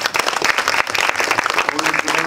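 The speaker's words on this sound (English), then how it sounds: "give the Lord a clap offering." A church congregation gives a clap offering, a loud burst of many hands clapping close by, with voices mixed in.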